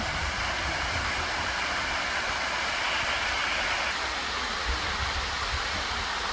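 Steady rushing water flows near a literary library, a dense continuous broadband wash with no breaks, close and fairly loud throughout.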